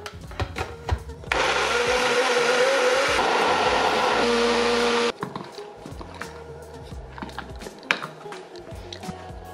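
A blender or food processor purees chickpeas with tahini, olive oil and cooking water, a loud steady whir that runs for about four seconds amid nearby kitchen clatter and light handling sounds.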